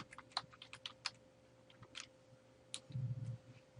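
Computer keyboard keys tapped in short irregular runs while a folder name is entered, light close clicks separated by brief gaps, with a low muffled thump near the end.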